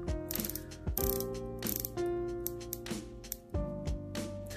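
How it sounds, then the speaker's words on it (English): Tudor Pelagos 39 dive watch bezel turned through its 60-click action, giving a close, crisp series of ratcheting clicks in short bursts with brief pauses, no voices. "The action is smooth with a crispy 60 click bezel and is very easy"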